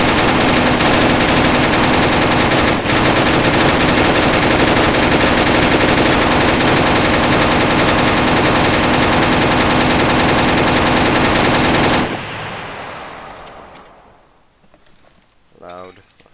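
Sustained rapid AR rifle fire in the Arma military game with the SOF mod pack's US MARSOC Marine loadout, loud and continuous for about twelve seconds before cutting off into a quiet tail with a few faint sounds.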